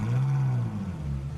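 A Ferrari 458 Italia with a 4.5-litre V8 and triple exhaust fires up, giving a loud, close, deep roar that settles into a throbbing idle.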